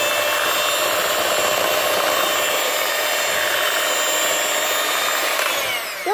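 Chocolate cake batter churned by a food mixer running at speed 5, a steady loud whirring motor drone that holds level throughout and cuts out right at the end.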